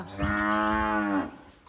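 A single long, loud cow moo rises and holds for about a second before trailing off, close by with no talking.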